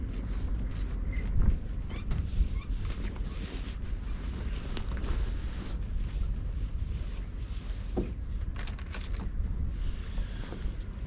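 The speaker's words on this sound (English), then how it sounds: "It's still a bit windy, it's a bit gusty" Gusty wind buffeting a river bank at the water's edge, a steady broadband rush with swelling gusts and occasional creaks throughout, no voices.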